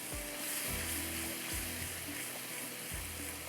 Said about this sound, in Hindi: साथ साथ में इसको इस तरह से अच्छी तरह से आपने इसको भूनते जाना है।